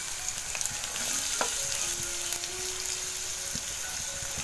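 Onion and garlic frying in hot oil in an iron wok over a wood-fired stove, a steady dense sizzle with crackling spatter and a few stirring knocks, close and continuous without talk.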